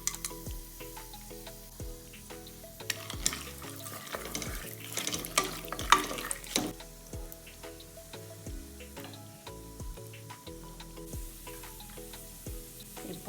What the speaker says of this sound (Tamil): இப்போது பட்டை, லவங்கம், முந்திரி எல்லாமே பொரிஞ்சிருச்சு.